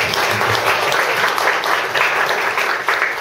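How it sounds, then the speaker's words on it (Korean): Audience applause at a Korean youth community gathering: a dense, steady wash of many hands clapping together, close and full, holding evenly throughout with no voices on top. "큰 박수"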